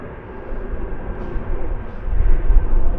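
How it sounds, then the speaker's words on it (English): Airplane passing overhead outdoors near a parked Toyota GR Yaris, a low rumbling drone that grows steadily louder over a few seconds. "Sorry about the plane noise."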